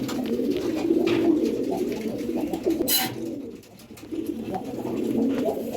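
Pigeons kept in a home loft coo continuously and fairly close, low rolling calls that briefly dip before resuming.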